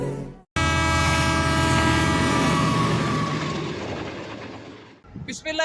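A loud, sustained train horn rings out at a platform of Lahore Junction railway station, starting abruptly after a brief pause and holding steady for several seconds before fading, followed by a short burst of other noise.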